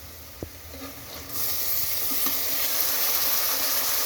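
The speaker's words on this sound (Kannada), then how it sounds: "ಟೊಮೆಟೊನೂ ಚೆನ್ನಾಗಿ ಫ್ರೈ ಮಾಡ್ಕೊಳ್ಳಿ." Chopped tomatoes frying in a pan with onions and curry leaves for mushroom biryani, a steady close sizzle that swells suddenly and stays loud and hissing after a soft start with a faint clink.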